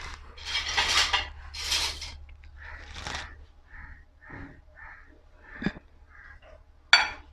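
A metal spoon clinks against dishes while matar pulao is served, with a few separate sharp clinks spread over quiet, breathy kitchen background and no talking.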